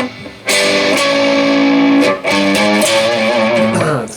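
An electric guitar plays a riff from GAMMA's "Voyager" with a distorted, effects-laden tone. Loud sustained chords ring out with sharp attacks and short gaps between phrases, and no voice is heard.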